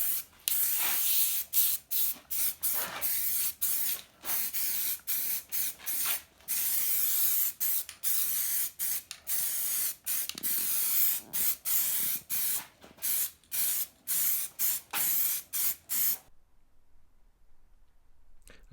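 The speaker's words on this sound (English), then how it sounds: "I'm just going to put a bit of etch primer on there" Etch primer sprayed from an aerosol can onto a Ford Fiesta Zetec S body panel, a loud steady hiss broken into many short bursts and passes, then stopping abruptly near the end, with no talking.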